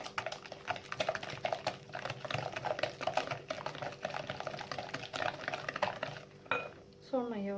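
A spoon clinks and scrapes against a bowl while milk is stirred into revani batter, with quick irregular tapping, fairly quiet and close, ending with a brief brighter clatter.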